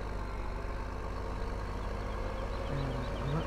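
A mucky tractor engine in Farming Simulator 2015 runs in a steady, low idling drone, close and continuous with no talking.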